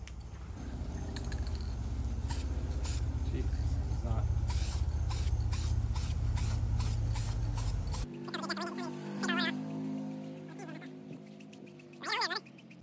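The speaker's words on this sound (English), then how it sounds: "it's on to spraying the first coat of gloss black on there" An aerosol can sprays gloss black onto a part of a 2023 Honda Trail 125 exhaust: a steady hiss broken by short repeated bursts, then quieter handling noises and small squeaks.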